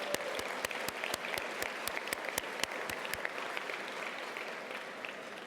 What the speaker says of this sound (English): we all owe the IEPA a big round of applause